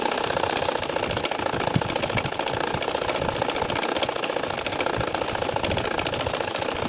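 Sewing machine stitching a nakshi kantha quilt, running in a fast, steady whir for the whole stretch, close and fairly loud with no pauses.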